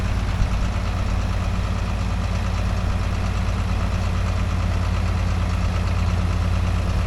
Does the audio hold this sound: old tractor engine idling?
yes